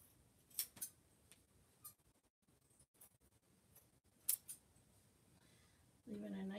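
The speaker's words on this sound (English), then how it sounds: "trim off the excess" Scissors trim the excess from three layers of sweater fabric while sewing mittens. A few quiet, sharp snips sound close by against near silence, and a low hum rises at the very end.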